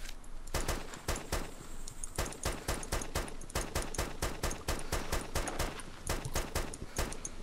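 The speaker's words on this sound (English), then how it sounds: "If you can hear rapid gunshot, that's just me offloading from there." Rapid bursts of gunfire in the game DayZ on the Takistan map crack in quick succession, loud and close, with brief pauses between volleys.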